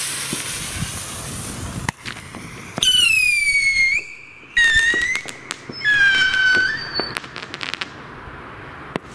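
Funke whistling rocket, caliber B, with three-stage silver crackers: a hiss of launch, then three rising-falling whistles each followed by sharp crackling bursts, loud and fairly close outdoors.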